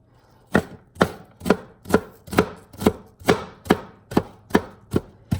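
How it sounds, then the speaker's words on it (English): A knife chops a shallot finely on a cutting board, eleven crisp, evenly spaced knocks about half a second apart, close and alone with no talking. "all I'm doing is just very, very fine chopping right now"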